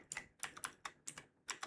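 About nine crisp keystrokes come up close on a computer keyboard while the word import is typed into a Python code editor, in quick uneven bursts with short pauses.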